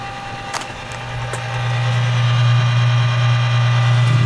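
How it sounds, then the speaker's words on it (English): A Camp Chef SmokePro Stainless DLX pellet grill runs its auger motor, a steady low mechanical hum that swells and holds after the first couple of seconds, with a couple of faint clicks early on and no talking. "You can hear the auger turning."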